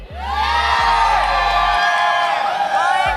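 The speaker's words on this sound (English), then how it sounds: "Wanna hear some of the shout from the Filipino crowd?" A Filipino crowd at a live MLBB M6 World Championship esports event roars with shouts and whoops, the massed voices loud and sustained, swelling into long rising cheers and chants that fill the whole stretch.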